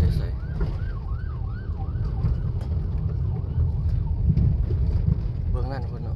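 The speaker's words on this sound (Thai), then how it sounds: "รถกู้ภัยอันนี้" A wailing rescue vehicle siren sweeps up and down repeatedly over loud road and wind rumble in Vientiane street traffic, fairly close and continuous.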